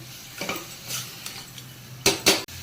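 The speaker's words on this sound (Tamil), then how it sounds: "கீரை போட்டதுக்கப்புறம் ஒரு 2 நிமிஷம் இதை அப்படியே கிண்டிக்கிட்டே இருங்க" Spoon scraping and clanking against a pan while stirring spinach kootu (milagu thakkali keerai) on the stove, several sharp metallic knocks spaced irregularly, the loudest two near the end, close and without talk.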